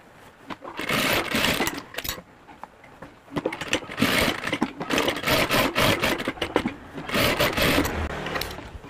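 A sewing machine stitches a 3D fabric face mask with a busy, continuous mechanical rattle of small stitches that runs through most of the span, rising and dipping slightly as the fabric is guided, with no talking.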